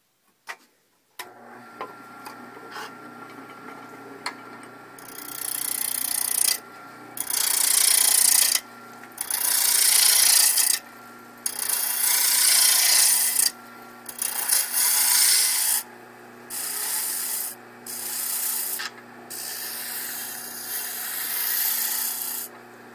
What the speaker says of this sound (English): So I'm going to use my roughing gouge again, just like I did earlier. And I'm going to re-rough this down into a good cylinder.